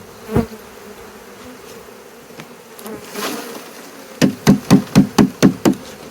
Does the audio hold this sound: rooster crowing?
no